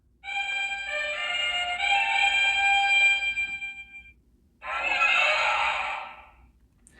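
A Power Rangers Dragon Dagger toy by Playmates plays a loud, tinny synthesized flute-like melody, pauses briefly, then a shorter burst of harsh electronic sound follows before fading.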